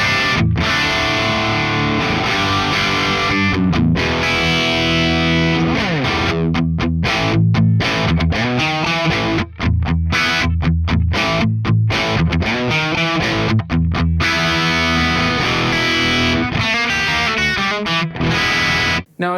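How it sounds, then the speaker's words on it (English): Electric guitar through a Marshall JCM 800 amp capture on a Quad Cortex, a moderately driven crunchy tone playing rhythmic chords with short palm-muted stops, loud and upfront with no talk. "So this is what the JCM 800 should sound like on its own."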